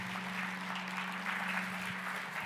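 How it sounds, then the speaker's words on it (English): A church congregation at a Christmas Sunday service applauds softly and steadily, a faint, even wash of clapping with a low continuous hum running underneath. "Give a huge round of applause for our team from Monroe."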